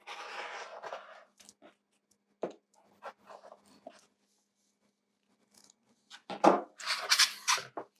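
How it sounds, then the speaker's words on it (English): Scissors cut through fabric for a quarter-inch seam allowance in short, close snipping and sliding strokes separated by quiet pauses, with a busier burst of cutting near the end. "cut our 1/4 of an inch seam"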